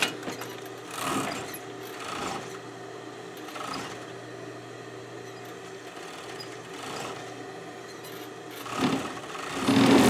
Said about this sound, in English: Overlock.